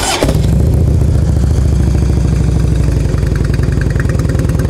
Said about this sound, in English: Fire it off and let you give it a listen.